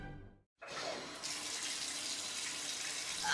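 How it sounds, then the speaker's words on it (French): A shower starts after a brief moment of silence, with water hissing on, then growing fuller and steady, close and constant. "Une bonne douche, ça fait du bien."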